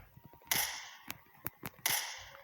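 Several sharp shotgun blasts in a video game, about four, unevenly spaced over a couple of seconds, crisp and bright, with no voices.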